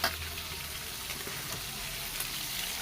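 Chopped local brinjal and tomato fry in hot oil with a steady, close sizzle that crackles on throughout, no voices present.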